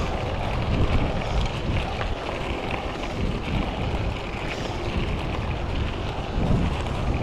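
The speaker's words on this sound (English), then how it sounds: "As soon as I upshifted, the wind got bad." Steady, loud wind buffeting roars across a motorcycle rider's helmet microphone on a highway ride near an I-90 overpass, broadband and continuous with slight swells, no speech.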